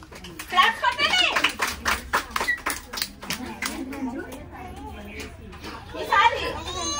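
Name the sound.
children clapping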